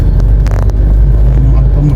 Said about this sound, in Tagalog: Ayan yung kaninang ano, sobrang traffic dito.